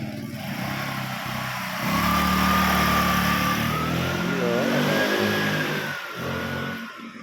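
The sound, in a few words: motorcycle engine revving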